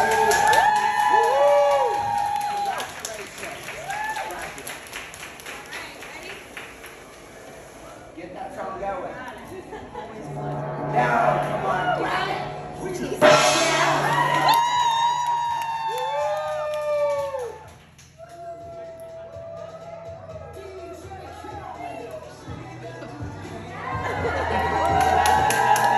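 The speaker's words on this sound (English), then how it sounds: "it was just like a little clap out" A group clapping and cheering at a graduation, with whoops, shouting and excited chatter rising and falling around a lively crowd, loud and close, with voices talking throughout.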